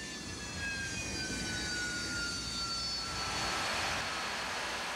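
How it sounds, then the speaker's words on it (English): A Harrier jet flying low roars loudly and steadily, its whining engine tones sliding downward as it passes close by. "To accomplish the mission, the Harriers fly low,"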